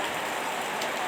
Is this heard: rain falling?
yes